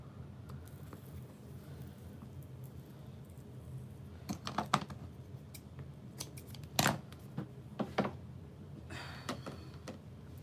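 Quiet room tone, then a handful of crisp scissor snips cutting diaper bag pieces, close by and spaced irregularly.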